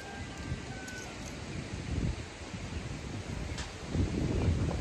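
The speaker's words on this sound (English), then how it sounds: "That wind is picking up out here" Wind blowing across an outdoor vegetable garden, a steady rough rush with gusts that swell toward the end, buffeting the microphone at close range, with no clear talking.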